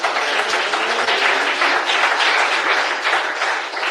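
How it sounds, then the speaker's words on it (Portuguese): An audience at a church sermon bursts into loud, sustained applause, a dense wash of many hands clapping together for several seconds with no talking over it. "Quem bate palmas?"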